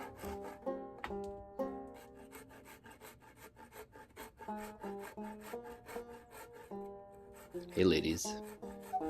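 A rasp or grinder takes shavings off a dried gourd being made into a banjo body, producing rhythmic scraping strokes close up, with a brief spoken greeting over the rubbing near the end.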